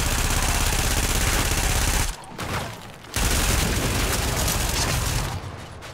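Sustained gunfire aimed at an enemy turret in The Division shooter game, dense loud bursts of rapid shots with booming impacts, broken by a short lull before the firing resumes.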